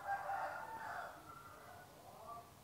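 Rooster crowing in the mobile game Line Rangers: a single drawn-out, wavering cock-a-doodle-doo, moderately faint, fading over a few seconds with no talk over it.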